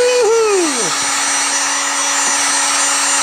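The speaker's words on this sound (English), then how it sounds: "One more time with the heat machine." A heat gun warms a part of a Parker P-36 guitar during repair, a loud steady blowing whir held for several seconds after a falling whine, close and continuous.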